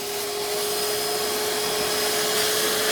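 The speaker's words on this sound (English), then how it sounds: "I stopped from brushing and I started the vacuum cleaner" A vacuum cleaner runs steadily and close while extracting dirt from a car seat during interior detailing, a constant whine with a sharp tonal hum that swells slightly at the end.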